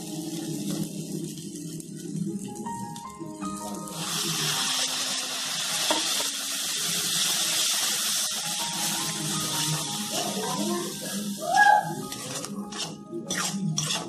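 A small splash of water poured into a hot pan of mango rui fish sets off a steady broadband sizzle and hiss, with faint background music and a brief clatter near the end.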